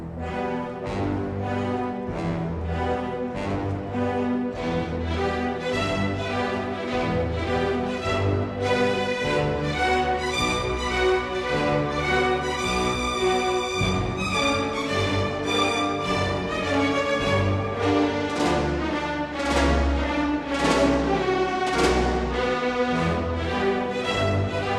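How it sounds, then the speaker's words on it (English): Orchestral recording of Prokofiev's Dance of the Knights from Romeo and Juliet, with heavy marching rhythmic accents from full orchestra, brass and strings, continuous and full without any talking. "The Knight's Dance, the one that sounds like this."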